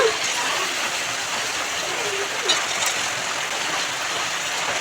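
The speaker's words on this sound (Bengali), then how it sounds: "এই জোরে একটু বৃষ্টি নামলো" Heavy rain pours in a dense, steady hiss that fills the whole stretch, close and loud, with no pauses.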